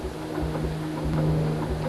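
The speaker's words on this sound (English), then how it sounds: "No, it's the engine turning." A boat's engine cranking over without firing, a steady low hum with a faint rhythmic churn heard close up throughout, no fuel pump running and no voices.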